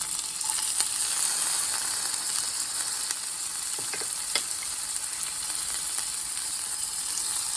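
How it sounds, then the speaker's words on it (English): Red onions sizzling steadily in a hot frying pan, a continuous crackling hiss with occasional faint ticks from stirring. "So I'm going to put my onions into the frying pan."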